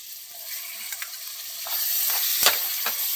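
Cooked rajma beans and tomato sizzle softly in a pan for curry, with a steady fry hiss punctuated by a few sharp stirring clicks and scrapes, close and fairly quiet.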